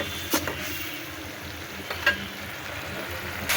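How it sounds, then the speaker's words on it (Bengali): A spice paste of cumin, ginger-garlic paste, turmeric and chili is sautéed in a pan for a prawn and ilish dish, giving a steady close sizzle with a few brief scraping stirs. "এখন আমি ভালো করে কষিয়ে নেব।"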